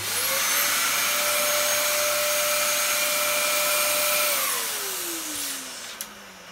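A Dyson DC07 upright vacuum cleaner motor runs with a loud steady whine, holding a constant pitch before spinning down and dropping in tone near the end, followed by a small click.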